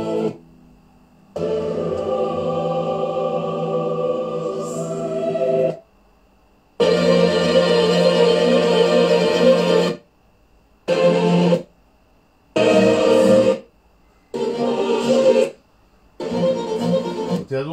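Slow, Orthodox-disco-style music from an oratorio, loud with dense sustained harmonies, stopping and restarting in short blocks separated by brief silences.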